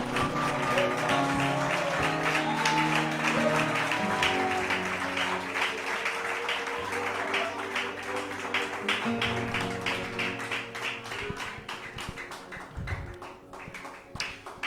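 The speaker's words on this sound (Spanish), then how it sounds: "Alguien denle un fuerte aplauso al Rey de la Gloria" A church congregation applauds during an evangelistic service, with a dense spread of claps and taps over music and voices; the clapping thins and turns sporadic toward the end.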